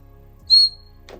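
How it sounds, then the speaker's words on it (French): A vintage McDonald's toy bird whistle gives one short, bright, clear toot near the middle, close and fairly loud over a quiet background, followed by a faint brief rustle. "On a les sifflets oiseaux."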